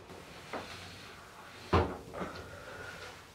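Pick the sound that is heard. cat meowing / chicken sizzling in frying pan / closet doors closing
closet doors closing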